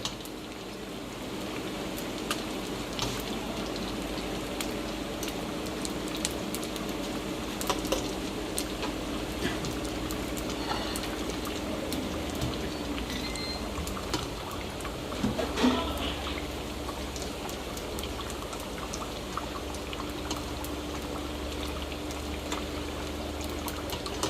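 Brisket rangoon sizzle and bubble while deep frying in hot oil, a steady, crackling fizz with scattered pops that continues evenly at moderate volume, without speech.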